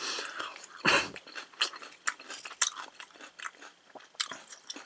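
Crunchy bites and chewing of fried lotus root from a supermarket, with sharp close crackles and repeated crisp crunches at an uneven pace, heard up close with no talk.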